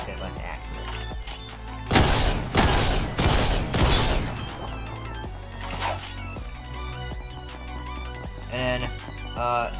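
Rapid burst of semi-automatic shotgun blasts from Ragdoll Universe, four heavy loud shots clustered close together, followed by quieter game clatter and thuds with a voice talking over it.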